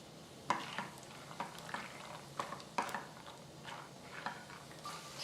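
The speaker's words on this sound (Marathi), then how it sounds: "सगळ्यात आधी शेंगदाणे तळूयात." Peanuts frying in about two tablespoons of hot oil, a soft steady sizzle broken by light scraping stirs and small clicks at a fairly even rhythm, close but quiet.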